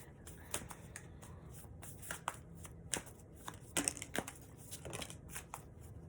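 Tarot cards are shuffled by hand close up, a quiet run of crisp riffles and soft slaps in an irregular rhythm, with no talking over them.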